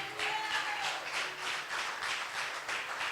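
Congregation applause at a church service, a steady dense wash of many hands clapping with rhythmic pulses throughout, moderately loud with no talk over it.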